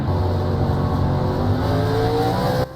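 Gen 4 stock cars roar as the pack accelerates on a restart at Homestead-Miami Speedway in iRacing, a loud, continuous engine drone with rising pitch, close behind the leader and cutting off abruptly at the end.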